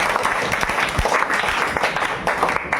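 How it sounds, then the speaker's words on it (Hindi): Steady applause from a group, dense clapping throughout with no pauses. "ताली मार इनके लिए भाई।"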